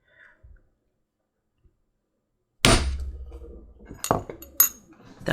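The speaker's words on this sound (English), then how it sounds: "let's go ahead and put another hole in for her vaccination tag" A hand tool punches an extra hole in a dog collar for a vaccination tag: a few sharp metallic clicks and clunks after a long silence, then a couple more crisp snaps close by.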